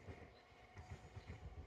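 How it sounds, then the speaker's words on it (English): A train passes somewhere in the distance in Japan, heard as a faint, low rumble with soft rhythmic clacking. "there's about to be a train go past."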